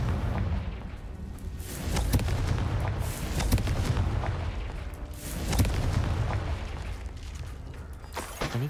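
Repeated booming blasts from the Confringo explosion spell in Hogwarts Legacy, a series of heavy bursts with rumbling tails spread across several seconds, fairly loud and with no talking.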